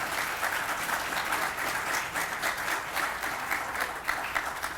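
Audience applause for a speech therapist at a ceremony marking an ambulance donation to Magen David Adom, a steady wash of many hands clapping from a crowd, even and sustained throughout with no talk over it.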